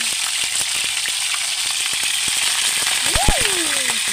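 Steady broadband sizzle of food frying in a pan, continuous and fairly loud, with a few sharp pops and a brief tonal squeak near the end.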